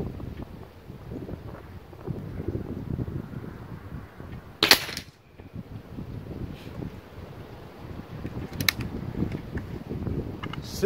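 Outdoors at 35 yards, a Seneca Dragonfly mk2 air rifle fires Crosman Premier hollow-point pellets: two sharp cracks several seconds apart over wind noise, with faint mechanical clicks between.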